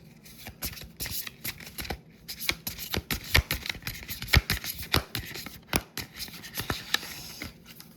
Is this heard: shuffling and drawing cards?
yes